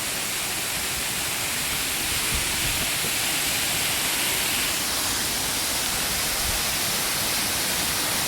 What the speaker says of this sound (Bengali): ঝর্ণাটা দেখো, আমাদের এই ঝর্ণাটা দেখানোর জন্য এসছি।